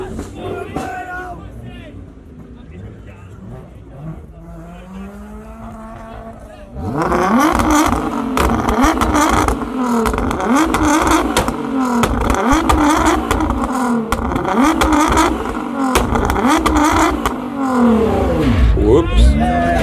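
Nissan GT-R engine revving hard at a night car meet in Burton, UK, loud and close, with sharp repeated throttle blips and crackles over crowd chatter and a quieter idling car beforehand.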